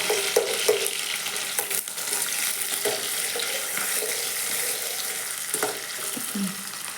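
Spices frying in a little oil in a home kitchen pan, a continuous low sizzle broken by intermittent scraping and knocking of a spoon against the pan, no talk.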